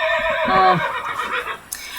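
A horse whinnies in the Alexandra Ledermann riding video game, one loud quavering neigh followed by a short snort and a faint clop, with no talk over it.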